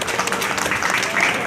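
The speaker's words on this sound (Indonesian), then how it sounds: "tepuk tangan dulu buat Kaprodi" Audience clapping at a university launch ceremony in Indonesia, a dense steady burst of many hands filling the room for a brief moment, with no voices over it.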